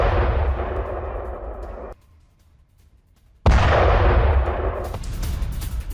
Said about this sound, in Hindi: कई जगहों पर धमाकों की आवाज सुनी गई।